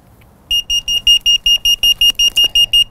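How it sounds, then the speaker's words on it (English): A car tire pressure monitoring system alarm for a faulty sensor: rapid electronic beeping, a steady train of short high-pitched pulses about five per second, loud and close, with faint handling noise underneath. "making an alarm to let me know there's a problem with this sensor"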